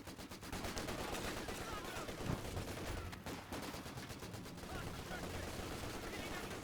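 Bren gun machine-gun fire in the Company of Heroes 2 video game sounds as dense, continuous rapid bursts with brief gaps, loud and sustained throughout.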